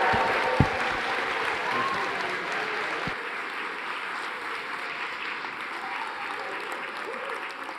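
Audience applause with scattered cheers welcomes a lecturer onto the stage at the UEA Christmas Lectures, a broad, steady wash of clapping filling the hall and fading slightly over the stretch.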